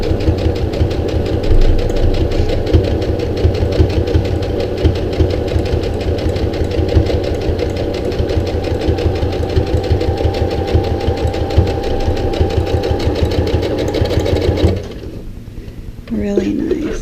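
A Brother CE1100 Project Runway sewing machine runs steadily, its motor giving a fast, even mechanical chatter of needle strokes close by, then slowing and stopping near the end.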